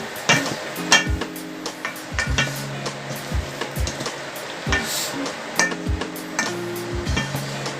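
Okoy batter being stirred in a bowl after salt is added, a repeated scraping and clinking of utensil against bowl in short bursts, close up with faint kitchen clatter.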